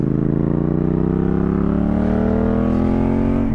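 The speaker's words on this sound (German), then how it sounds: "Der Sound. Mega. Wir haben hier eine Zweizylindermaschine." A Yamaha MT-07 two-cylinder motorcycle engine revs loudly and close, its deep pulsing tone climbing steadily in pitch as it accelerates, with no talking.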